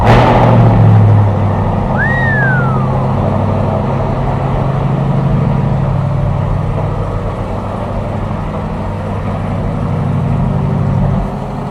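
Corvette fitted with a Borla exhaust with mild-to-wild dual-mode baffles, heard with a short starter whine then a loud, steady, deep idle rumble that holds close and constant for several seconds, no talk.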